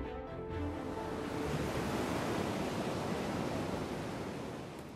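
Ocean waves break on the Cantabrian Sea coast where a river estuary meets the sea, a loud, continuous roar of surf with rushing wind.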